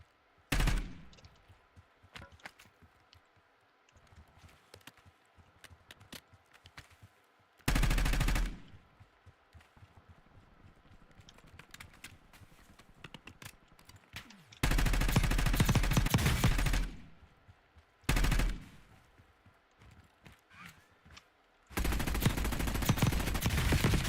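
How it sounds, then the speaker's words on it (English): Video game gunfire in Warzone: loud sustained bursts of automatic fire in several stretches lasting one to three seconds, separated by quieter in-game ambience with scattered faint pops. "That's bad shooting there."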